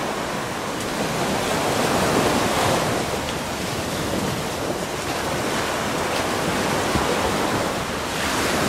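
Surf washes steadily onto a beach in the Maldives, where the ocean runs somewhat rough: a constant loud, broad hiss and roar mixed with wind, without voices.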